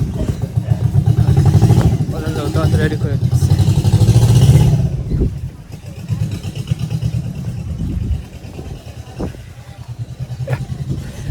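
A motorboat engine drones loudly and steadily while people board and the boat sets off on a wetland lake in Assam. People talk over the engine, and a few clattering knocks come from the boarding.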